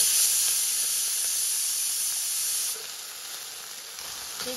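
Potato pieces with asafoetida and turmeric sauté in hot oil in a pan, giving a constant bright hiss that drops a little partway through, alone with no talking.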